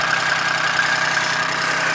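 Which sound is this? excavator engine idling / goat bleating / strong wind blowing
excavator engine idling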